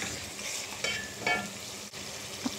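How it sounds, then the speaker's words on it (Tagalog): Onion, garlic and tomato sauté in a pan with a soft, steady sizzle, broken by a few stirring scrapes and a light utensil tap. "mag-isa na tayo ng sibuyas, bawang, at kamatis"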